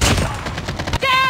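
Rapid bursts of automatic gunfire in the mobile shooter game COD Mobile, a dense string of close, loud shots lasting about a second before a voice cuts in.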